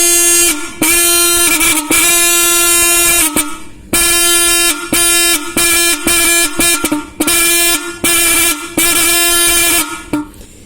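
Modified motorbike horn, its metal diaphragm stretched wider for a louder tone, honking loudly and close in repeated bursts of varying length, a steady buzzing tone broken by short gaps.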